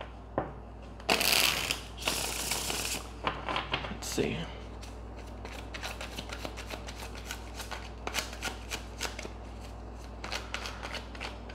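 Tarot cards riffle and shuffle in a few loud, crisp bursts, followed by a softer run of quick taps and flicks, with a brief voice at the start.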